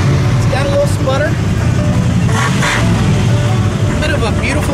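An old farm pickup truck engine runs with a slight sputter, a steady low rumble under close, continuous talking.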